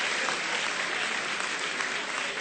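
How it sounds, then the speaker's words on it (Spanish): An audience at an Argentine political event bursts into dense, sustained applause, a loud uniform roar of many hands clapping throughout with faint crowd murmur. "aunque sean de Boca, aplaudan."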